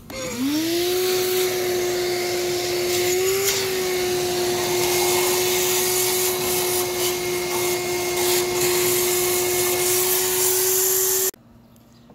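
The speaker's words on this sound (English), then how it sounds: "We're gonna get the vacuum on." A vacuum cleaner runs steadily during a workshop cleanup, a loud continuous whine that spins up at the start, holds a constant pitch for about eleven seconds, then cuts off abruptly.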